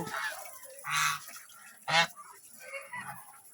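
Geese honk loudly a few times at close range while eating dry paddy, short harsh calls separated by quieter rustling and soft clucking.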